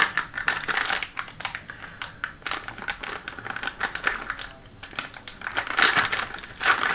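Resealable plastic package holding 3M curved and flat adhesive GoPro mounts, handled up close with dense crinkling and rapid clicky rustles that run steadily for several seconds, with no voices.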